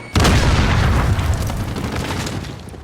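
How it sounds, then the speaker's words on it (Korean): A UAV drone crashes in Call of Duty Modern Warfare on PS4 with a sudden loud explosive boom, followed by a long rumbling decay that slowly fades. "아, 무인 정찰기가 추락했다."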